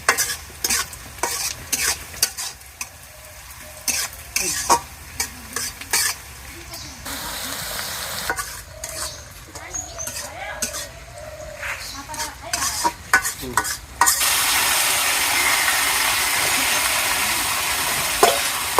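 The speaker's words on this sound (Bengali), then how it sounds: "তো বাহিরে শুধু মাংসটা রান্না করবো। মাংস বসাই দিয়েছি" Meat cooking in a pot outdoors in a Bangladeshi village, with steady sizzling and frying under repeated scrapes and clanks of a spoon stirring against the pot, close by, and a louder continuous sizzle toward the end.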